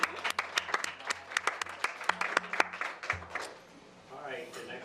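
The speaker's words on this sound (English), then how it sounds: "you deserve a round of applause." A small group claps briefly in a room during a board meeting, scattered individual claps fading out after a few seconds as a voice talks over them.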